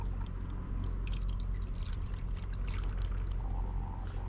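Water poured into a blocked roof drain on a Range Rover L405, gurgling and trickling steadily over a low rumble, close and continuous with no talk.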